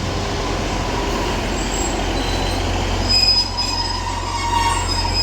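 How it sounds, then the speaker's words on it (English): Northern class 156 and class 150 diesel trains pulling into Salford Central station, with a loud, steady rumble of engines and rolling wheels plus thin squealing tones from the rails as they slow, close by and without talk. "And as this Northern 156 and 150 arrive in now"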